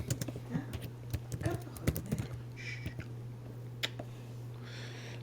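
Code being typed on a computer keyboard: irregular bursts of close, crisp key clicks over a low steady hum, with brief pauses between runs of keystrokes; no talking.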